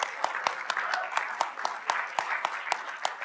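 An audience at a tech forum and awards event gives scattered applause, with sharp individual claps standing out in a fairly regular rhythm above a softer bed of clapping and murmur.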